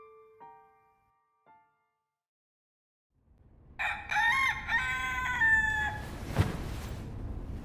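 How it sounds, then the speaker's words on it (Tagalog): After a near-silent stretch, a rooster lets out a loud, close crow, followed by some clucking and scuffling. "Ilang mga manok ang halos mamaos na sa kakatilaok"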